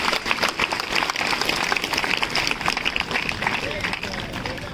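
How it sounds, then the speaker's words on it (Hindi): Loud sustained applause from a standing audience at a motivational talk by a marathon coach, dense clapping running throughout with voices underneath. "इनके लिए जितनी जोर से ताली बजा सकते हैं उतनी जोर से बजाइए"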